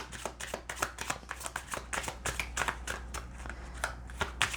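Tarot cards are shuffled close by in quick, crisp riffles, a steady run of sharp papery clicks and flutters with no voices.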